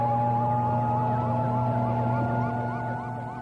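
A Hong Kong police emergency unit vehicle's siren wails continuously with a rapid, rising-and-falling electronic tone, loud and close, over steady engine hum.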